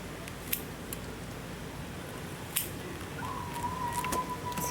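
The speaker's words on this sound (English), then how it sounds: "I'm going to just cut it just above the roots." Scissors snip chia and mustard microgreens just above the roots, grown without soil, giving two crisp, quiet cuts over a low background hum, with a faint steady tone in the second half.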